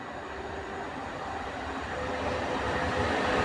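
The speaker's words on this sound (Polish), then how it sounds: "Jedzie jakiś pociąg od strony Gdyni Chyloni." A TLK Lubomirski passenger train hauled by an EU160 electric locomotive, from the direction of Gdynia Chylonia, rumbles past at a slow, steady pace, a continuous low roar that grows gradually louder with no voices.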